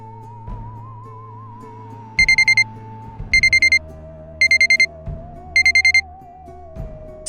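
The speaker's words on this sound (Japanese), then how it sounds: "セットした覚えもない目覚まし時計の音が頭の中に鳴り響いて目覚めた。" A loud electronic alarm clock rings in four evenly spaced bursts of rapid beeps, each short bursts repeated, over a quiet background with a soft sustained tone between them.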